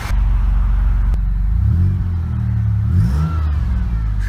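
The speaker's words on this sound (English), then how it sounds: "Never get tired of a supercharger whine. Okay, now that it's running" Supercharged Pontiac engine idling loud and close after a fresh battery install, low rumble with a sharp click, revs rising and dipping, a faint supercharger whine riding on top.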